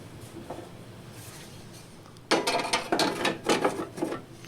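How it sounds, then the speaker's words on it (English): The plastic cover of a wood planer is fitted back onto the machine: a faint rustle at first, then a cluster of close clicking, rattling snaps of parts seating into place. "Time to go ahead and put the cover back on."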